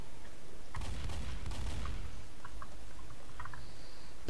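Gunfire in the video game Left 4 Dead comes as a burst of rapid shots over about a second, followed by scattered fainter clicks and pops against a low background rumble, with no talking.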